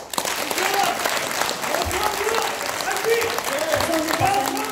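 Sustained applause from an audience at a lecture and general meeting of a national revival association, loud and steady throughout with voices mixed in beneath the clapping.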